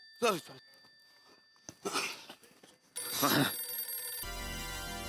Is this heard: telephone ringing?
yes